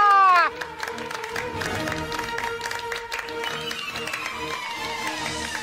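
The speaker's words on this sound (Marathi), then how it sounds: "जोरदार टाळ्या" A studio audience at a Marathi TV serial breaks into loud, sustained applause with many hands clapping and some cheering, following a short musical sting at the start, continuing evenly throughout.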